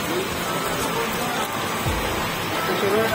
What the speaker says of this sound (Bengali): বৃষ্টি নেমেছে খুব জোরে।